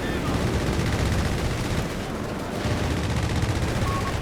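Dense gunfire from a Company of Heroes 3 battle, sustained and loud, with overlapping bursts that could be machine-gun fire mixed with other battlefield noise, steady throughout.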